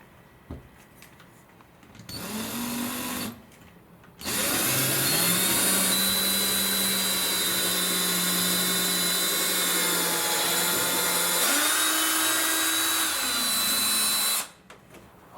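Power drill boring a hole for a bifold door knob bolt, with a brief high whine, a pause, then a long steady drilling run of about ten seconds whose pitch rises near the end before stopping.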